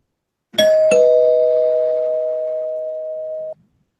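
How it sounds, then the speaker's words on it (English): A bell rung as a podcast spoiler warning sounds as two quick struck tones, then one clear ringing note that sustains and slowly fades for about three seconds before cutting off, alone without talk. "I'm going to ring the bell"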